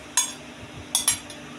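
Three or four short metallic clinks of a serving utensil against a dish, close by, while curry broth with ueste (bitter gourd) and fish is ladled out. There is a quiet pause between the first clink and a quick pair near the end, and no talk.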